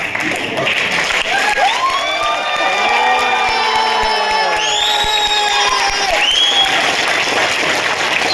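An audience at a motivational talk breaks into loud, sustained applause mixed with cheers and whoops, with voices rising and falling above the clapping throughout.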